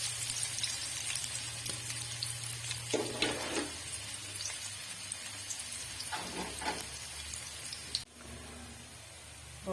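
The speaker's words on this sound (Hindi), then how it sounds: "यहाँ थोड़ा सा मैंने प्याज जो है वो कटिंग कर दिया था, तो ये मैं इसमें डालूंगी" Chopped onions frying in hot ghee make a continuous, fine crackling sizzle like light rain, steady at moderate distance with a few brief stirring rustles.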